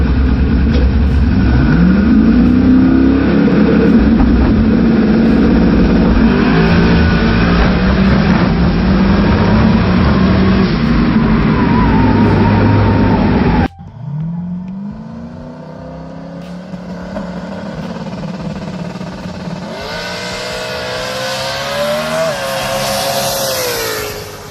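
A turbocharged Coyote-swapped Fox body Mustang on a 25.3 setup with a huge turbo and stock bottom end revs hard, its loud engine note climbing and falling through repeated pulls, with a second section of rising revs carrying a higher-pitched whine.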